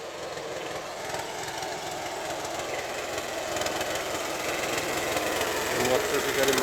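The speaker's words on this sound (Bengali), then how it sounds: "এটা সাঙ্গু নদীতে নৌকা চালিয়ে আসতেছে।" A motorboat's engine drones steadily on the Sangu River and grows gradually louder as the boat draws closer, with people talking over it.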